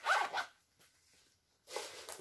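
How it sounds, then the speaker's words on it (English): A purse zipper pulled open in two quick rasping strokes, a pause, then another zip near the end, close and clear with no talking. "And then your zip going along the middle"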